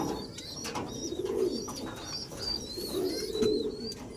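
Soft cooing of a racing pigeon hen in low throaty pulses, close by, with faint chirps of other birds in the background.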